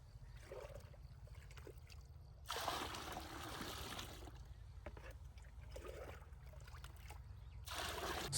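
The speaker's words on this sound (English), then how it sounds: "Now pour in around 12 liters of water." Water pours steadily in two long gushes, splashing and rushing loudly into a bucket, about 12 liters, with quieter trickling and faint movement between them.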